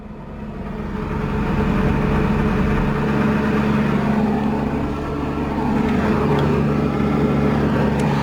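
The 4.0-litre V8 of a 2015 Mercedes-AMG GT S Edition 1 idles with a deep, steady low rumble, heard close and continuous without any talking.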